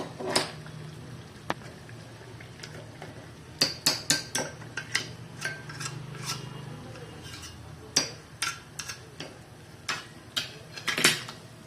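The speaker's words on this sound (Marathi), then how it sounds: "आता ही डिश आहे ना आपण काढून टाकूया बाहेर" A dish being lifted out of a pan of ghee on the stove, giving sharp metallic clinks and scrapes of steel utensils over a low, steady sizzle, in irregular clusters with quiet gaps between them.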